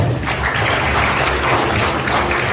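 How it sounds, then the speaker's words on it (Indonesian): Seminar audience clapping together in a steady, dense burst of applause, fairly loud and close, lasting a couple of seconds with no talk over it. "tepuk tangan buat Bapak Ibu semua"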